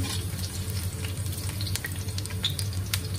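Garlic sautéing in a hot pan as the start of a Chinese-style chicken feet adobo with shiitake mushrooms, giving a steady, close sizzle with faint crackles and no talking.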